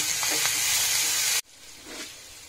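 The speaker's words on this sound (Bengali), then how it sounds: "সমস্ত মশলা একসঙ্গে কষিয়ে নেব" Ginger paste, cumin powder, coriander powder and salt fry together in a pan for begun bharta, giving a loud close sizzle that drops abruptly to a softer hiss with light stirring.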